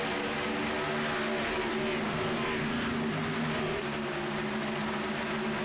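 Cup cars racing at Homestead Miami in iRacing, a steady multi-engine drone of roaring V8s at sustained high revs, continuous and fairly distant under the broadcast mix.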